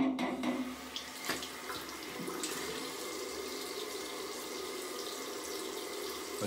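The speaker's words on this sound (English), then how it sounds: "Turn the faucet off." Water runs steadily from a bathroom faucet while a wet shaving soap is moistened, giving a faint continuous splashing hiss with a few soft knocks near the start.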